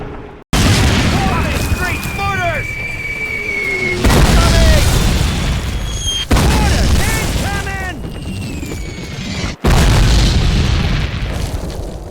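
Repeated heavy mortar blasts in the Call of Duty American campaign, a few loud booms in sequence with battlefield noise, whistles and shouted voices between impacts.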